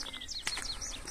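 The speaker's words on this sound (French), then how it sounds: "Voyez, on entend les oiseaux." Faint birdsong carries outdoors at dusk: a few quick, high chirps and short trills in a brief, quiet snippet.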